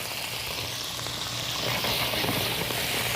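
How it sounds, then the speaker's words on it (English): Onions sizzling and frying in butter in a rice pan, a steady broadband hiss that stays loud and continuous throughout, swelling slightly partway through, with no talking. "I'm going to add my onions."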